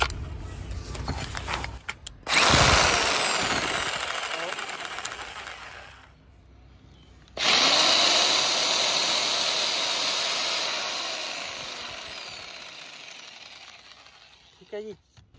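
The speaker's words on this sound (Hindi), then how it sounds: "तो एक बार हम जैक्सा भी यहाँ पर चलाकर देखते हैं।" A 610-watt electric jigsaw powered by solar panels without a battery runs in two loud bursts of whining, buzzing motor noise with a short pause between, close and alone.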